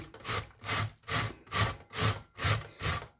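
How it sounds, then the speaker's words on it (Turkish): Cauliflower being grated by hand on a grater for a garlic yogurt dish, a steady rhythm of seven or eight raspy scraping strokes, close and clear with no talking. "rendeliyorum arkadaşlar"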